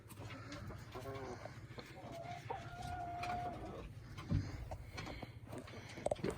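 Chickens cluck softly in a coop at twilight as they settle onto their roosts and laying spots, a low, steady murmur of the flock with a few brief louder calls near the end.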